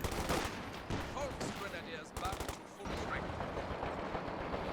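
Heavy .50 cal machine gun fire from a Company of Heroes 2 battle, rapid dense bursts of gunshots running continuously at close range with a brief lull near the middle, mixed with other combat noise.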